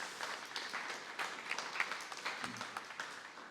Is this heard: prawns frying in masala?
no